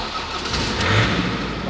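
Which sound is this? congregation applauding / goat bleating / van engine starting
van engine starting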